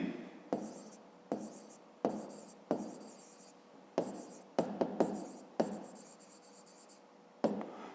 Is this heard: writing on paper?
yes